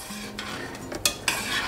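A utensil stirring macaroni in a pot of boiling water, with a few scraping clinks against the metal and a soft bubbling hum underneath.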